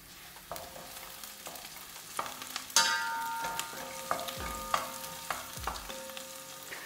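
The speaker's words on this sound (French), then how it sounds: "on va bien laisser revenir les oignons" Chopped onions sizzle in a frying pan while being stirred, a soft steady fry with intermittent scraping and clinking of the utensil against the pan, close and without any speech.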